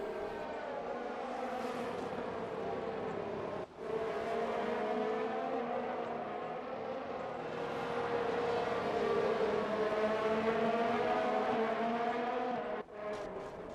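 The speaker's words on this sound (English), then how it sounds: "You listen to just how low all the revs are coming out of a lot of these corners" In the video game F1 2019, a Formula 1 car engine at the China circuit drones steadily with rising and falling revs, sustained and fairly loud, broken by two brief dips where the pitch drops before climbing again.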